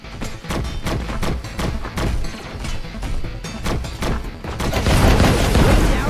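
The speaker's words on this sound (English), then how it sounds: "Bring down some fireworks!" Rapid thumps and booms of fireworks explosions in the mech arena game BEAST, dense and loud, swelling into a noisy roaring burst toward the end.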